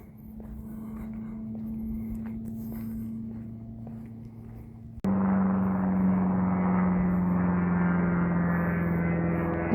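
A steady engine drone of a small experimental pusher-type two-seater aircraft overhead, growing abruptly louder and fuller halfway through and holding a constant hum.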